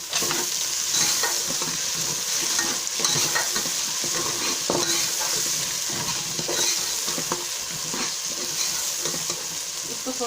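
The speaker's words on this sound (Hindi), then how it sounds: "अब प्याज को फ्राई करेंगे। हमने प्याज हल्का ब्राउन करना है।" Onions and garlic paste fry in a pan for kadhi pakora, giving a steady loud sizzle with occasional stirring scrapes throughout and no talking.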